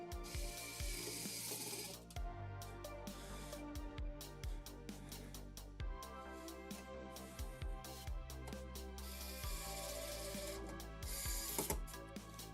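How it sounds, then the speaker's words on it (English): A GPU is screwed into a PC case with a ratcheting driver, producing rapid repeated clicks and mechanical ticking in several bursts, close and fairly quiet, with no talking. "Once you screw your GPU in there, it's nice and snug."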